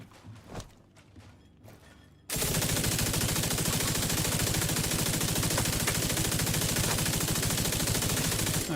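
Gun firing in Rainbow Six Siege, a few isolated shots and footsteps, then a sudden sustained burst of dense rapid automatic fire that stays loud and continuous to the end.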